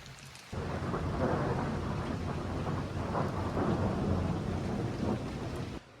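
Steady heavy rain pours down with low rolling thunder rumbling through, a dense continuous wash of sound with no voices.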